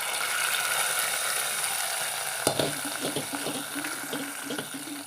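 Liquid is poured into a pot of pumpkin pulissery, a steady watery rush and splash that turns to bubbling and sizzling partway through, close and moderately loud.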